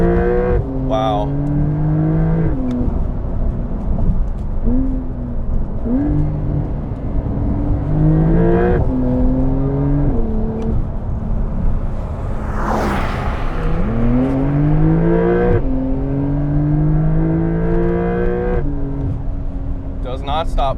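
Porsche 911 GTS with an 8-speed PDK gearbox accelerating hard, engine note rising through several quick upshifts in repeated climbing pulls, heard from inside the car with someone talking over it.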